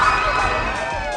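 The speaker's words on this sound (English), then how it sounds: "Wow, the crowd's really getting into it tonight." A cartoon crowd cheers loudly and steadily in a dense wash of voices, a short burst with no single voice standing out.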